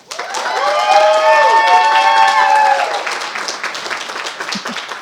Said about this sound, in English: who brought her own cheering section